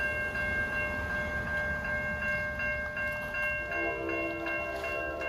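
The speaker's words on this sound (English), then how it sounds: "Got some kind of a Hoboken-bound train equipment move." An NJ Transit equipment move heading for Hoboken rolls past in Upper Bergen County, New Jersey, its horn sounding a steady multi-tone chord over a loud continuous rumble of wheels.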